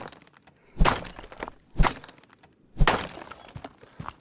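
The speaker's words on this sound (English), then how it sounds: "So we've got these 3 crates, which I'll destroy really quick." In the video game Mine Mogul, three crates are smashed one after another, each a sharp cracking thunk with a brief splintering tail, spaced about a second apart against quiet background clicks.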